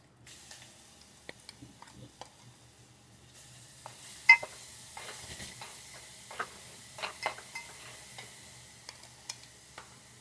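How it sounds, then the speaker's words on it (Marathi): Whole spices sautéed and stirred in a pan for a Kolhapuri chicken curry, soft sizzling punctuated by irregular clinks and scrapes of a spoon against the pan, close and fairly quiet. "खडे मसाले परतून घ्यायचे थोडे."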